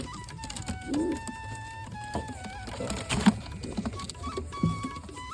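Pigeons in a loft coo in low, throaty bursts, joined by soft patters and flutters, set against steady tonal background noise.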